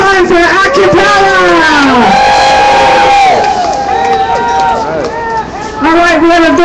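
A large rally crowd cheers and shouts loudly for a group of a cappella singers, a sustained dense roar of many voices with whoops rising and falling, briefly dipping near the end before swelling again.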